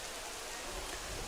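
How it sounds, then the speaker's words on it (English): A sudden rain shower falls outdoors at a youth cycling event: a steady, dense hiss of rain on surfaces, fairly loud and continuous. "the sudden rain that just sort of came down and caught"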